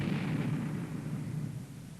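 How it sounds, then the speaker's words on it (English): Quarry rock blasting with several charges fired in sequence, heard as a sustained low, rumbling roar that stays loud and then slowly tapers off, with no voices over it. "start the explosion. 3, 4, 5 places start to blast."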